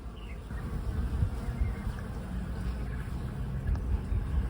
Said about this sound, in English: there are bees just buzzing all around here